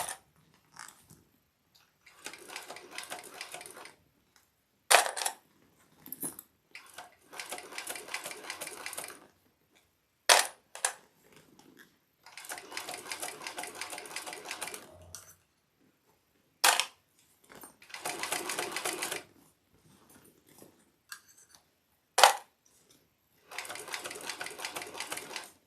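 Sewing machine stitching a Brunella bag, bursts of rapid needle chatter lasting a few seconds each, separated by short pauses and sharp clicks as the fabric is repositioned, with no talk.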